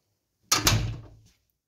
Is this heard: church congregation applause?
no